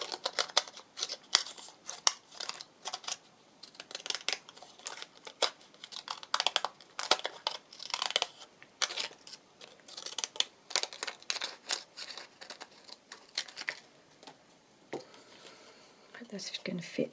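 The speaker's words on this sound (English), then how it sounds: "I'm going to just cut along here a little bit." Scissors cutting paper during a papercraft alphabet project, a string of short crisp snips and crinkles in an irregular rhythm, close and fairly quiet, lasting throughout.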